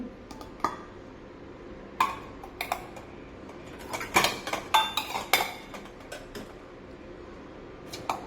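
Bowls handled in a home kitchen clink and clatter in scattered bursts, several sharp knocks of dishware against each other, some clustered close together, over a quiet room background.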